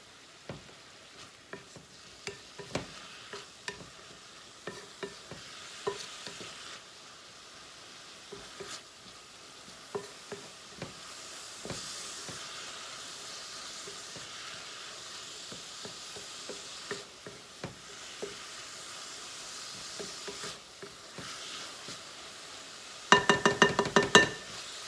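Swiss chard sizzling on high heat in a pan with a splash of water, a steady soft frying hiss broken by scattered stirring clicks and a burst of clinking utensils near the end.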